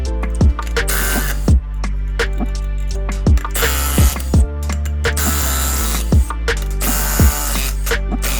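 Ratchet clicking in quick bursts with sharp metallic clacks and knocks while wheels come off a Ford 9-inch rear axle, loud and close with no talk.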